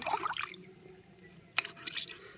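Water drips and splashes in irregular bursts as fish are washed, close and fairly quiet, with scattered droplet taps and brief pours.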